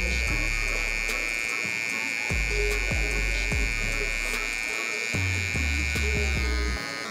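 An electric hair clipper buzzes steadily and close up as its blade corner details a high taper haircut, with short bursts and drops in pitch as it meets the hair.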